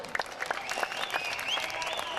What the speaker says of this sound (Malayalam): പഴനിമല വിജയരാജും വിപിൻ ചേട്ടന് നല്ലൊരു കൈയടി കൊടുക്കുക.